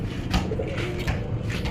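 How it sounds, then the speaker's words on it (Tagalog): A pigeon coos close by in a short, low, throaty burst with a soft warbling rhythm, heard alone over a faint steady background. "Saka sa kalapati na hindi na umuwi sa may-ari"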